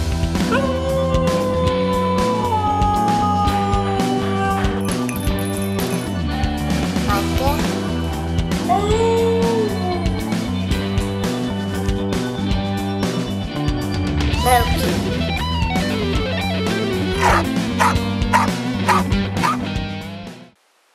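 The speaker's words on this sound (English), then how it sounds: "was a talking husky" A Siberian husky vocalizes at length in a decorated home, a near, loud run of drawn-out whines, yips and howl-like barks that rise and fall in pitch, with a person's voice briefly in between.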